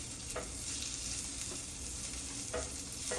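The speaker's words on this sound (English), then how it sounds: "For the sucuk, since I cut it so thinly, you can just saute it for 2 minutes" Thinly sliced sucuk sausage sautéing in a pan for a Turkish breakfast, giving a steady, close sizzle with faint stirring scrapes throughout, no voices.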